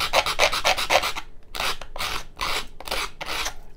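Sandpaper rubbed by hand along a wooden paint stick, a series of close, rasping back-and-forth strokes in rhythmic bursts with a short pause partway through.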